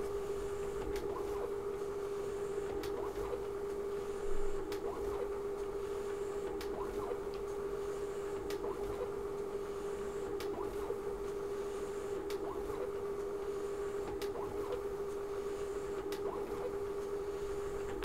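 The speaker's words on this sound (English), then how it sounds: "The forms we are using today highlight the duplex capabilities of this scanner, meaning these double-sided forms are able to be scanned with just one pass." A Canon C130 scanner feeds double-sided forms in single duplex passes, giving a steady mechanical hum with a regular rhythmic clicking of sheets passing through, continuous and close with no voices.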